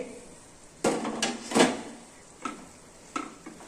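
A metal lid lifted off a pot of cooking mochar ghanto, banana blossom curry, a few clanking knocks and scrapes close by, spaced out over quiet kitchen background.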